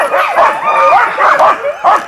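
A sled dog team at the start line yelps, whines and barks in rapid overlapping bursts, loud and close, eager to start running.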